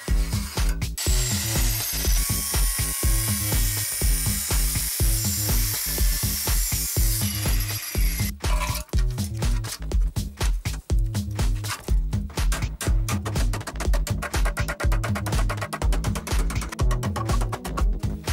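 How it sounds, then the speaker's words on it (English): Metal blanks clamped in a vise with a bar are cut to remove excess metal, producing loud, rapid rhythmic rasping and grinding strokes close by, with a brief pause midway before the cutting resumes. "We fix the blanks with a bar in a vise and cut off the excess metal."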